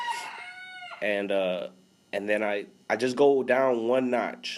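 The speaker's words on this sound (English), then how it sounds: "if y'all hear the roosters in the background" Roosters crow in the background, several long, rising calls spread through the clip. They sit under close, continuous talk.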